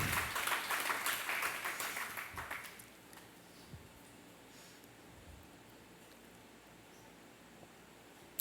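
A church congregation claps together in worship, a dense, bright burst of applause lasting about three seconds and then fading to quiet room tone.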